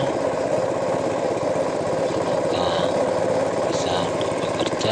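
A Honda GX220 small gasoline engine runs steadily at close range, a continuous loud mechanical drone with even vibration and no pauses throughout.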